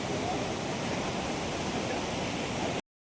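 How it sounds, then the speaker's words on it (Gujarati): A fast river at Manikaran in Kullu rushes past near hot spring pools, a dense, steady broadband roar that holds constant for almost three seconds before cutting off abruptly. "અને આ નદી ખડખડ જોઈ લ્યો અવાજ"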